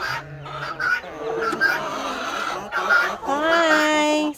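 Brahma and Speckled Sussex hens cluck and make squawky, honking calls close by, with one drawn-out call near the end and a person talking among them.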